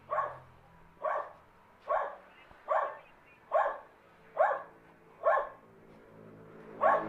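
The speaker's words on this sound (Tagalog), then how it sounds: "May aso." A dog barks steadily at a blue gate in Cavite, Philippines, roughly once per second in a regular run of about nine loud, close barks with no talk over them.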